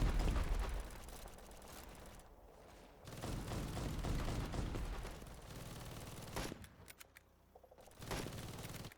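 Machine gun fire in the video game The Patriotic War, a loud, dense rattle of rapid shots with sustained bursts and brief lulls, mixed with mechanical game effects and no talking.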